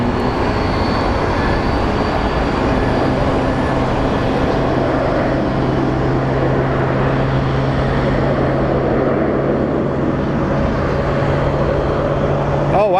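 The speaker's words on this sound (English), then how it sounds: "we have a Southwest coming in for a landing" Southwest airliner on approach to land at Phoenix Sky Harbor airport, a steady loud broadband jet roar with a low drone held throughout, continuous and unbroken.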